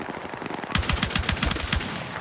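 Short controlled bursts of machine gun fire in Battlefield 6 rattle out loud and close, a rapid string of sharp shots starting abruptly after a moment of ambient game noise.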